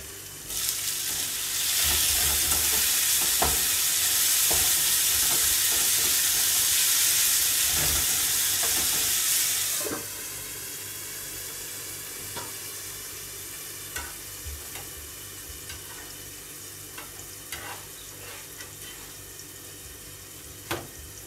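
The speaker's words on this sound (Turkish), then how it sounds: "Ona sadece kızartacağım sosisle birazcık." Sausage frying in a pan gives a loud, steady sizzle for about ten seconds, then drops to a softer hiss marked by scattered clicks and scrapes of stirring.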